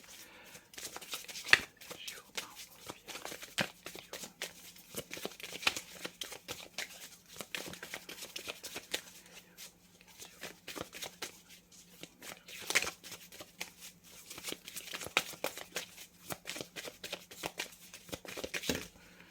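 Tarot cards are shuffled by hand, faint papery rustles and soft flicks running on and off for a long stretch under quiet talk.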